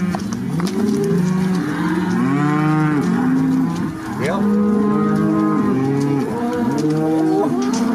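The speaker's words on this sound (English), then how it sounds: "All the cows come to me." A herd of cattle, cows and calves, moo loudly and keep overlapping. The calls are long, close and come one after another with hardly a pause, and someone says a brief word.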